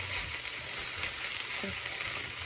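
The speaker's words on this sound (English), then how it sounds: "Okay, more sizzling." Steady, dense sizzling of Korean dried gondeurae greens frying in a pan, a constant crackling hiss with no voices.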